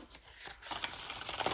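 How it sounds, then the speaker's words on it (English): A deck of cards riffled and shuffled close up, a quick flurry of crisp, fluttering clicks that swells after a brief soft rustle. "Ooh, listen to that shuffle."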